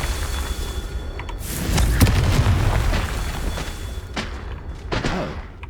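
A Confringo fire spell explodes in the Hogwarts Legacy video game, giving a heavy boom and rumble, followed by a few sharper bursts and thuds, with no talk.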